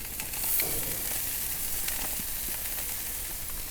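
Cut zucchini halves sizzle on a hot grill, a steady close hiss and crackle of cooking with small pops, no voices over it.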